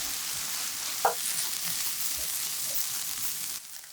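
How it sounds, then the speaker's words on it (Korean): Oyster mushrooms stir-fried with salt and pepper in a pan, giving a steady even sizzle with a single soft utensil knock early on, the hiss dropping away just before the end. "소금 한 꼬집, 후추 약간 넣고 골고루 볶아주세요."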